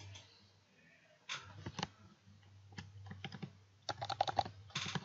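Keys clatter on a computer keyboard in short irregular bursts of typing, quiet and close, with brief pauses between groups of keystrokes.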